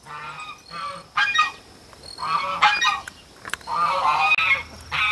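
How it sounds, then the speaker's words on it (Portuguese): Several geese honk loudly and repeatedly at close range on a small farm, their harsh calls coming in bursts. "Já os gansos não largam de nós mesmo, não."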